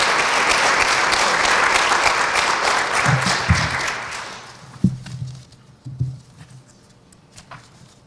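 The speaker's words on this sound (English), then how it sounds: "Let's give Eric a round of applause" An audience at a recognition tea applauds an honoree with full, dense clapping that thins out after about four seconds, leaving scattered claps and a few thumps.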